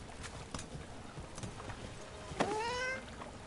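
A single clear cat meow in the video game Dragon Age: The Veilguard, rising then falling, heard close after soft hoof-like clopping footsteps, with no talking.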